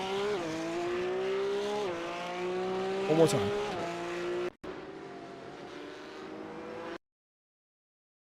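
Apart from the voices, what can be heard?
Porsche Cup race cars on track, replay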